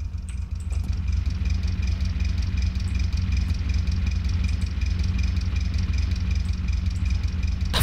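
A smoking, damaged car engine idling steadily in the driving game The Long Drive, a continuous loud low rumble with constant hum throughout and no voices.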